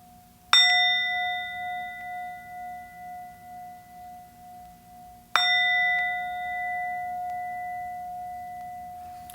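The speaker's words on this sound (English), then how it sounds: "it doesn't have to be the biggest and greatest, singing bowl." A small singing bowl is struck twice, several seconds apart, each strike ringing out with a clear sustained tone that slowly fades, with a faint wavering shimmer.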